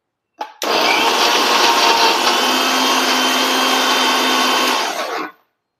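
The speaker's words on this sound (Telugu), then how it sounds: "మిక్సీ వేసాను చట్నీ." A mixer grinder whirs steadily at high speed for about five seconds, blending chutney, loud and close with no talking, starting abruptly and cutting off at the end.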